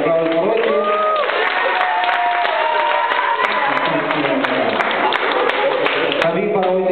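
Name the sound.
audience applause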